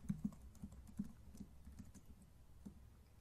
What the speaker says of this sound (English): By typing in password.